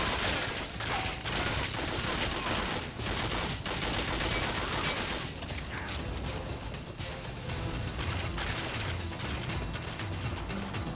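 Rapid bursts of gunfire in the 007 Agent Under Fire shooter, loud and continuous, volleys of shots cracking over a busy game background.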